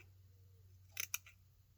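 A quick trim with scissors, heard as two or three crisp close snips in a brief burst over a low steady hum in a quiet room.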